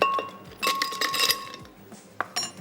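Ice cubes drop into a glass for a lemon drink, giving a few bright clinks and rattles in quick bursts, close and fairly loud, then a short trailing tinkle.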